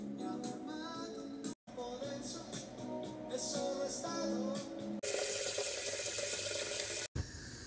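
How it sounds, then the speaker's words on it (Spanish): Cold tap water gushes into a sink to fill a hot water bottle at night, a loud steady rush that starts abruptly in the second half after quieter household sounds. "Ponemos el agua para la bolsita de agua caliente porque si no nos morimos de hipotermia."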